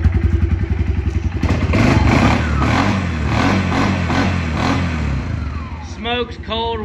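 A Suzuki KingQuad 400 ATV engine idles steadily, a close, rhythmic thumping putter that runs throughout, with someone talking over it and a brief chirping squeak near the end.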